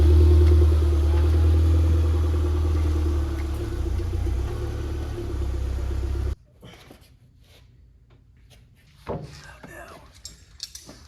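A stock turbocharged Toyota MR2 runs loud and steady for about six seconds with a low engine drone, then cuts off abruptly. A quieter stretch follows, with a few faint knocks and rustles near the end.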